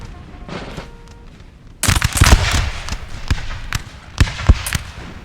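Massed musket volley fire from Napoleonic infantry in the Napoleon Total War battle game: a ragged crackle of many shots, then sharp scattered reports popping over several seconds against a low battlefield rumble.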